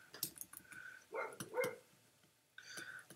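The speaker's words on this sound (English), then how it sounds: "That is my dog barking in the background." A pet dog barks in the background of a home recording during a coloring session. A few short barks come at irregular intervals, fairly distant and quiet, with faint keyboard-like clicks between them.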